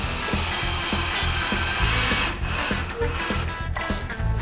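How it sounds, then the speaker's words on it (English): A power drill drives pocket hole screws into wood while building a floating plate rack, a loud close steady whir with rhythmic pulsing throughout that shifts pitch partway as the screw seats. "This will make it easier to attach these pocket hole screws."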